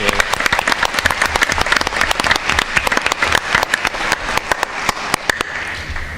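A high school board meeting audience breaks into sustained applause for student award winners, dense loud clapping running steadily throughout before easing slightly at the end.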